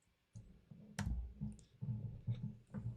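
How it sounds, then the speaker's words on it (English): Mouse clicks on a computer while opening the start menu and Run dialog to type msconfig, several short sharp taps spread over a few seconds, close and fairly quiet against low room hum. "right-clicking on the start menu and clicking on run and typing in msconfig"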